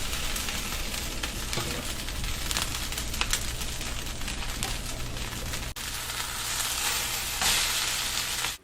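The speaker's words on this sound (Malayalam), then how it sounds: "1/2 ടീസ്പൂൺ ഉലുവപ്പൊടിയും കൂടിയിട്ട് നന്നായിട്ടൊന്ന് വഴറ്റിയെടുക്കാം." Masala with fenugreek powder sizzles and fries steadily in a hot pan, a close continuous crackle with occasional stirring scrapes and no talk.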